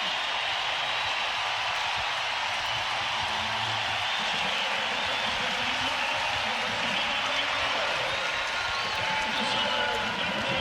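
A volleyball arena crowd roaring after a long rally at a Nebraska–Oregon match, dense sustained cheering and noise filling the space, with faint voices blended in.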